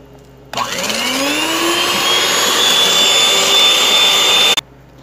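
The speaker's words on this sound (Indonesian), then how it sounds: "kita mixer dengan kecepatan tinggi ya" An electric mixer beats pandan sponge cake batter at high speed, a loud whirring motor that starts abruptly, rises in pitch, holds steady for about four seconds, then cuts off.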